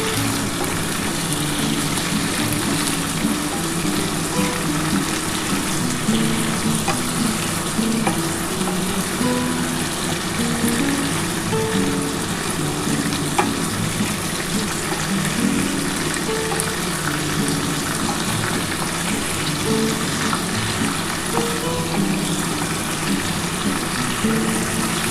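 Chicken with yogurt fries in a pan, a constant loud sizzle with occasional scraping and clacking as it is stirred, steady for the whole stretch with no voices.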